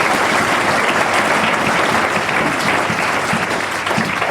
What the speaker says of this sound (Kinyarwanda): Reka dukomere Imana amashyi tunakira mu izina rya Yesu.